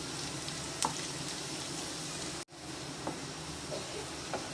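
Garlic fries in a pan with a soft, steady sizzle and hiss, faint and continuous, with a brief dropout midway and a few small clicks.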